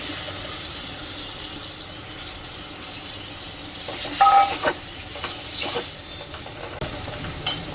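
Taro stems go into a pan of spice paste that has been fried down well, giving a soft, steady sizzle broken by a few louder clatters and scrapes of stirring, close by with no talking.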